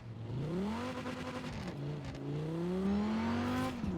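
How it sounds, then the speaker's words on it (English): V10 sports car engine in Forza Horizon 4 cruising at night, a steady droning hum that rises and falls gently with light throttle, continuous and close, no voices. "Sounds like it's got some kind of V10 under the hood."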